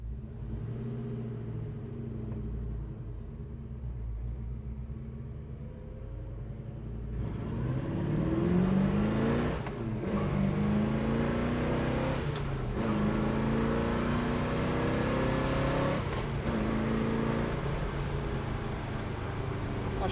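A 1969 Chevrolet Chevelle SS with a 454 engine idling with a deep rumble, then accelerating hard so the engine note climbs through several rising gear pulls, loud and close from inside the car.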